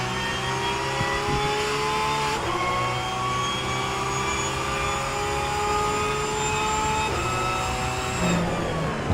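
A Porsche 992 GT3 Cup race car during a European Series race accelerates hard out of a turn, its engine wailing loudly and up close as the pitch climbs steadily, broken by two quick upshifts; no voices are heard.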